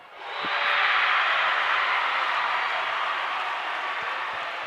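A volleyball crowd at a state division final roars and applauds after a point, a dense, sustained cheer that swells early and holds steady, loud and close.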